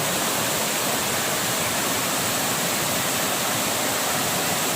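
Steady rushing water flows without pause, a dense continuous wash like a stream or outflow, with no voices.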